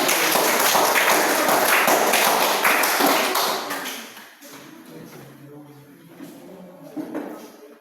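A class gives a burst of applause for the first group before their presentation. The dense clapping fills the first four seconds, then fades into a quieter room where voices are heard.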